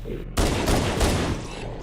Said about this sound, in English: you can come out here and take out the flood that are up top with the pistol.